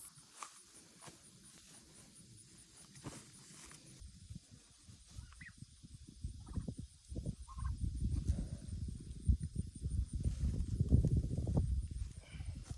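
Turkeys and hens in a farm coop, with clucks and scattered bird calls over steady rustling and movement that grows louder through the second half, along with footstep-like shuffling.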